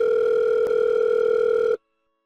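A telephone dial tone heard while placing a call to a father-in-law: a steady, loud, unbroken electronic hum with one faint click, then cutting off abruptly into silence.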